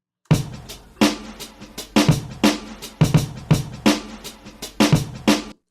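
A punchy programmed hip-hop drum beat, with booming kicks and crisp snare hits, looping in a steady groove, loud and close.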